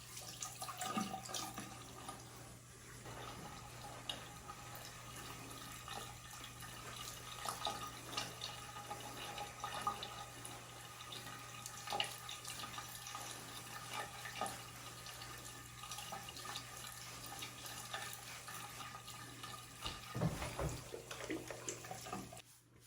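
Tap water runs steadily under a low hum while a beard is washed with shampoo, with faint splashes and shifting flow, no talking.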